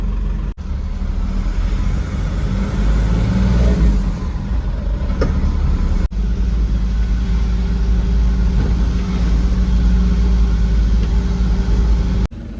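A car travels the road from Pune to Mumbai, giving a steady, loud engine drone and road rumble throughout, with a few brief thumps.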